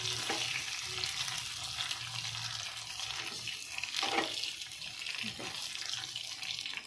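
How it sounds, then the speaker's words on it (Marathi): Soft, steady sizzling of garlic frying in oil, close by, with occasional stirring scrapes and faint watery sounds. "की लसूण परतून घ्यायचं आहे"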